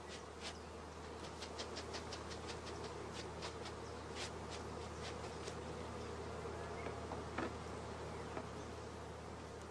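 Honey bees buzzing around hive frames as they are brushed into a nursing colony for queen rearing, a dense, steady drone close by with scattered sharper buzzes of individual bees passing near.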